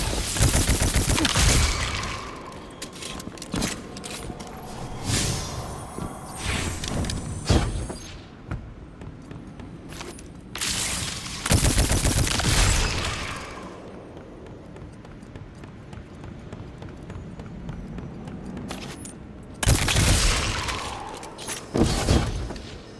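Guns fire at swarming moths in the sci-fi shooter Destiny 2, loud volleys of shots in several separate bursts with quieter stretches of background game noise between them.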